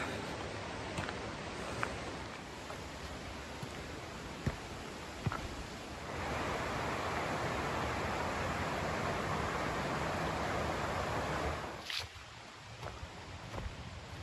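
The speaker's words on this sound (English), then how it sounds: "You can hear the running water." Steady broadband rushing of a mountain stream in the Great Smoky Mountains, heard on a hiking trail, continuous throughout with a louder stretch in the middle and a few faint knocks.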